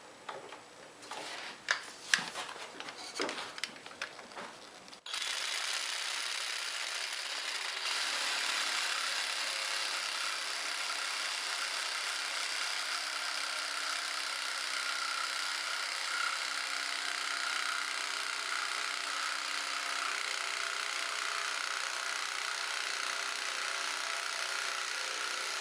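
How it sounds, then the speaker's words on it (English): Jigsaw cutting a wooden Adirondack chair part clamped to a workbench, with a short stretch of tapping and handling followed by a steady, continuous buzzing cut that runs close and loud to the end. "cut it out with the jigsaw halfway or until I run into the clamps"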